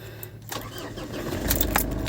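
A car engine cranks and catches while the gas pedal is pumped to feed the fuel injector, the starter whir building into a louder, rising engine roar toward the end, close by with no talk.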